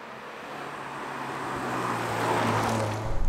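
Subaru WRX TR sports sedan driving on the winding Sicilian streets of the Targa Florio, a steady engine and road roar that swells gradually and stays close and continuous.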